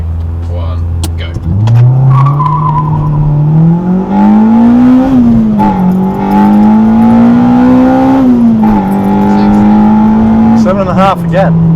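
A Honda Civic Type R EP3 with a Quaife LSD gearbox makes a hard 0-60mph launch, its engine revving loud and close, climbing steadily through the gears with brief shift dips and a rising high-rpm wail.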